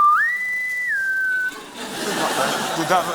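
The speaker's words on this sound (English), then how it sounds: "What do you do when you hear that whistle?" A shrill naval whistle rising and then holding a steady pitch for about a second and a half, loud and close, followed by broadband background noise.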